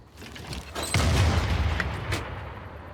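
Units in Civilization VI open fire on the city of Madrid: one heavy, booming impact lands with a rumbling tail, followed by a fainter second hit that fades out. No voices are heard.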